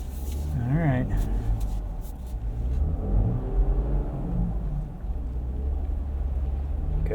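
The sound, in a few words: INEOS Grenadier Fieldmaster driving through mud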